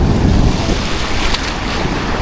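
Sea waves wash onto a beach in a steady, loud roar of surf, with wind buffeting the microphone throughout.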